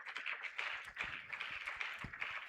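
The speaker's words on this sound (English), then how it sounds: "Please, can we clap for her?" Audience at an International Women's Day event applauding an honored guest, a continuous patter of many hands clapping at moderate distance, fairly faint and without talk.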